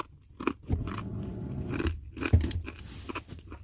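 Crunchy food is chewed up close during a mukbang, with a run of sharp crisp bites and crackling crunches at irregular intervals, no talk.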